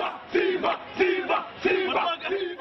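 A crowd of supporters celebrates a court ruling that restores Mwashetani as MP for Lungalunga, cheering and chanting loudly in rhythmic surges that rise and fall about four times.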